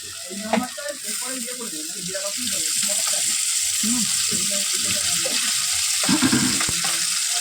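White cooking oil heats in a pan and sizzles with a steady, fairly loud hiss that builds and holds throughout, while someone talks over it.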